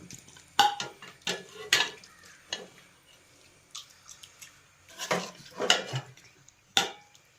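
Chilli chicken served into a dish, with scattered clinks and scrapes of a spoon and utensils against the vessel, plus soft wet squishes, in short bursts with quiet gaps and no talk.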